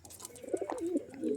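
Pigeons offered for sale, several soft low coos in a short close burst, faint and alone.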